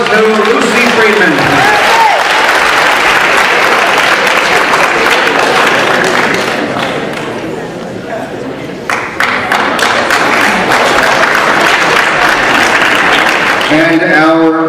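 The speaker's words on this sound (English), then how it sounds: "Let's give applause to Lucy Friedman." Loud, sustained audience applause at a middle school science and technology fair awards ceremony, dense clapping that thins briefly midway before swelling again, with voices faintly mixed in.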